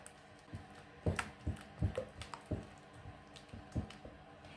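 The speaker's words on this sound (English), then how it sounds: "Let's give it a mix with a spatula." A spatula mixes an egg into banana loaf batter in a bowl, giving soft, wet squishing strokes in an uneven rhythm, close and fairly quiet.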